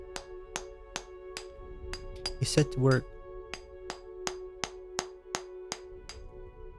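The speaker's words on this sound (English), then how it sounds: "Use the hammer and chisel to weaken the wall." Hammer blows strike a chisel against a cracked stone wall in Pillars of Eternity, a regular series of sharp metallic taps about every half second over a sustained musical drone, with a brief spoken line partway through.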